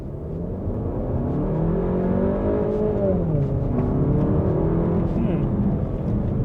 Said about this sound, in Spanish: hizo mucho ruido el motor